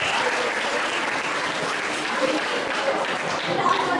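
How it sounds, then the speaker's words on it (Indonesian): Steady, even applause from an audience at a cultural presentation, a continuous wash of many hands clapping at moderate level with no break for the whole stretch. "Oke, tepuk tangan."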